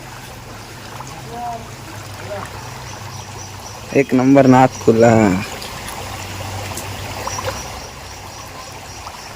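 Steady broadband rush of a waterfall in heavy rain fills the whole clip, with a brief burst of nearby talking partway through.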